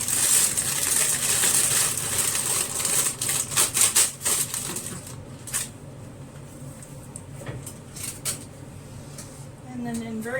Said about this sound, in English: And then just peel your paper off.